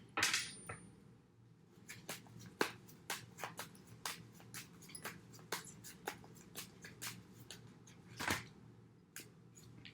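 Repeated crisp riffling and tapping of tarot cards being shuffled in short bursts, fairly close, over a quiet room hum, with no talking.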